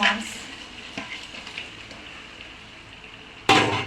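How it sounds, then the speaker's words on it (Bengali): Rohu fish pieces fry in a thick spice masala, giving a low, steady sizzle with faint stirring, then a sudden louder clatter of a spoon against the pan near the end. "মাছ দিয়ে একটু নেড়ে ছেড়ে খুব ভালো করে আরেকটু সময় নিয়ে কষে নিতে হবে"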